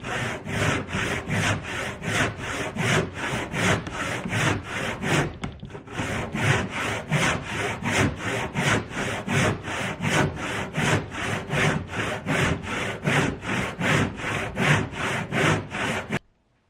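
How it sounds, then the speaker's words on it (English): A hand saw rasps rhythmically through dense salvaged wood, close and loud, pausing briefly partway before resuming the same steady back-and-forth strokes. "Flipped it over and I'm still sawing."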